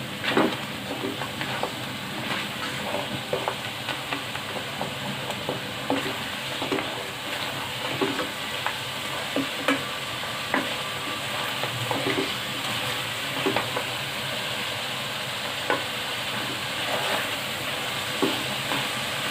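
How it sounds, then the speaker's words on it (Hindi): Mutton with green beans and spices frying in a pan, a continuous close sizzle broken by regular scraping and clinking strokes of a spoon stirring the mixture. "और साथ ही सारे मसाले भी। इसको करते हैं मिक्स अच्छी तरह से।"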